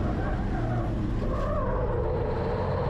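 Onboard a race truck at the Australian Super Truck Nationals in Wakefield, a loud continuous engine drone with deep rumble and shifting pitch as the truck drives, plus some tire noise, heard without talk.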